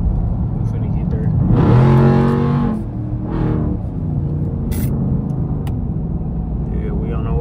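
Busy highway traffic heard from inside a moving car, with a loud engine rev and a whooshing vehicle passing early on, then a steady road rumble under talking.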